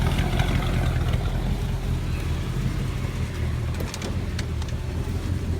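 A BMW E30 M3 fitted with an S54 engine runs at a steady low idle, with a continuous rumble that holds close and even throughout.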